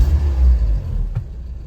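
A warmed-up 1988 Isuzu Trooper engine idles with a low, steady rumble, close by and smooth, with a brief faint click near the end.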